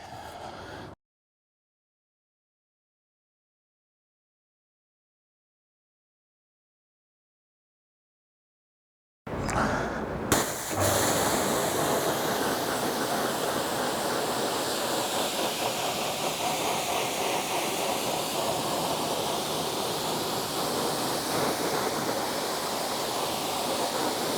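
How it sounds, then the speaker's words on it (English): A steady loud hiss of water spraying over a car wheel during a rinse. It starts briefly, cuts out into silence for about eight seconds, then runs continuously and close to the end. "Now time to give it a rinse."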